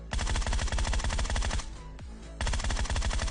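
Cover fire in the video game PUBG Mobile rattles as loud, sustained automatic bursts, close and dense, briefly dropping off with a single clear shot before the rapid fire starts again.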